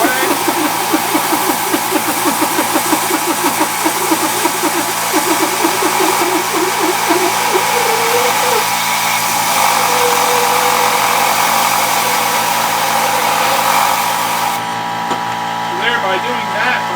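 A power drill bores holes in wooden roller blanks, its high whine steady and loud close by, while a pulsing rattle of cutting and bursts of air clear the sawdust away.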